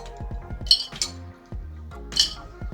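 Ice cubes drop into a glass for lime iced tea, a few bright clinks and clatters in quick succession, close and clear with no one talking.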